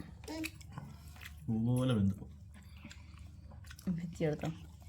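Chewing from someone tasting a home-cooked curry with coconut pieces, soft squishy bites close up between short bursts of talk.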